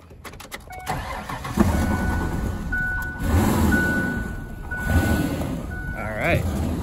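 A Ford Ranger's 4.0 OHV engine cranks and catches, then settles into a rough idle with revs rising and falling, a steady tone overlaid and a person talking nearby.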